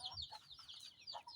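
Chickens and chicks roaming freely give short, soft clucks and chirps, a few quick calls in close succession at low volume.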